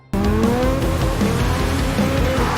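A criminals' car chases a truck carrying an artifact in a film scene: a loud, sustained engine roar with rising revving pitch and tire noise, continuous and close after an abrupt start.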